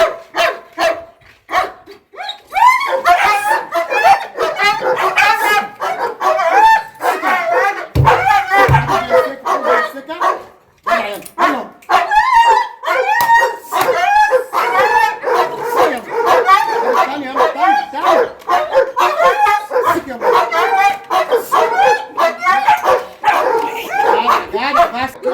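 Dog barking repeatedly and loudly at close range, sharp yips and barks in rapid bursts with some whimpering, mixed with people talking over it throughout.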